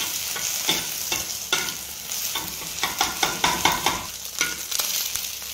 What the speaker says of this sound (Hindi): एबे आमे अंडाटा को भाजीबा।